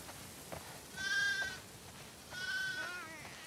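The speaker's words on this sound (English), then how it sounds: "Wow, that's a lot of sheep." Two wavering bleats from sheep in The Last of Us Part II video game, one after the other, over a steady low background hiss.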